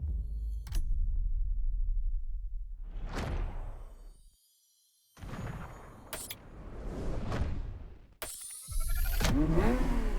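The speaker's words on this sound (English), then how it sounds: "The Ferrari F50. A bridge between road and racetrack." Ferrari F50 supercar engine in the racing game The Crew Motorfest, loud low roar rising and falling through revs and whooshing passes, broken by brief silent cuts and sharp bangs.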